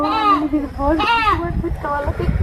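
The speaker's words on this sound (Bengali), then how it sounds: "ছাগল ডাকছে ওটা কোনো ব্যাপারই না" A goat bleats several times in quick wavering calls, loud and close, with people talking nearby.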